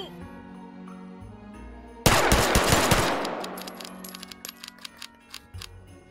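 Rapid automatic gunfire in the VR shooter H3VR during a holiday Meatmas event, a loud dense burst breaking in after two quiet seconds and trailing into scattered clicks and tinkling shell casings.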